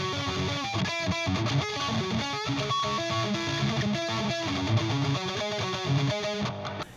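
Distorted electric guitar riff played with the fingers, using fingerpicked pinch harmonics, loud and continuous with choppy, rhythmic note attacks and sharp squeals over about seven seconds, no voice.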